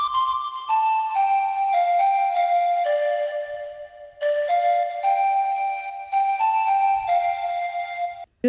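Flute sample in a tropical house track, a bright breathy melodic line of descending stepped notes in two repeated phrases, clear and prominent with no voices.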